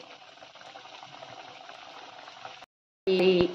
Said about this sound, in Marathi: जी आपण लांब करून घेतली होती ती खारी तळून घेऊया आता मैत्रिणींनो. मीडियमच गॅसवर तळायची आहे.